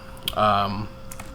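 Computer keyboard keys are pressed with a few sharp clicks, one near the start and another toward the end, alongside a voice speaking.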